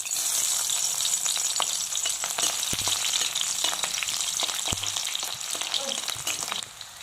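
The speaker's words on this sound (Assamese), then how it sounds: "এয়া আমি তেল গৰম কৰিছোঁ। এতিয়া গৰম হ'লে আমি ইয়াত পিঁয়াজ দিম।" Onions sizzling steadily in hot oil for an Assamese vegetable dish, a loud, continuous frying hiss with a few sharper crackles and spits throughout, no voices.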